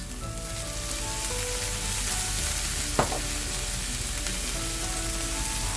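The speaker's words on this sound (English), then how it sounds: "we're just going to saute it with a little bit of the balsamic vinegar, some pepper, and a dash of salt" Asparagus and chicken sausage sauté in a pan with balsamic vinegar, pepper and salt, giving a steady, even sizzle close by with one brief clink partway through.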